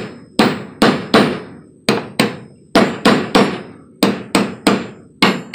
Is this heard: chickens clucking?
no